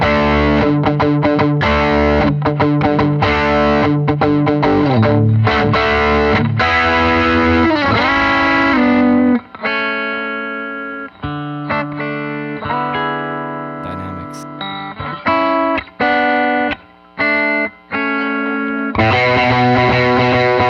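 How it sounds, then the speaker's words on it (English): Electric guitar through the green side of a Browne Protein overdrive pedal, voiced like a Nobels ODR1, loud and crunchy: dense driven strummed chords, then single-note lines and riffs with brief stops, close and forward. "Let's start with the green side. That's supposed to sound kind of like a Nobels ODR1."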